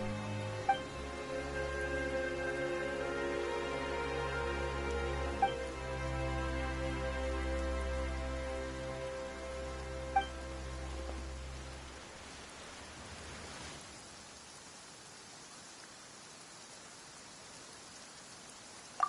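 Rain falls in the video game Genshin Impact as a continuous hiss beneath layered musical tones. It thins out and fades toward near silence, broken by a few faint isolated taps.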